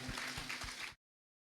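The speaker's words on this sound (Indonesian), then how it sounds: "Selamat, tepuk tangan buat sastra Nur Lintang." Audience applause at a book discussion of a pesantren literature novel, a dense wash of many hands clapping at steady volume for about a second before cutting off abruptly into silence.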